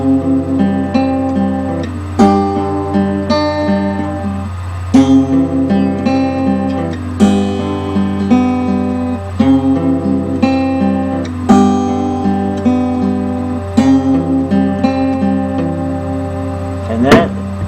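Travis-picked acoustic guitar with a steady alternating bass and melody notes on top, played close and clear in an even, rolling pattern.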